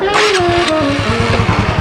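A motorcycle engine revs loudly and close, its pitch rising and falling across a brief burst with a throbbing low rumble beneath, while a voice speaks briefly.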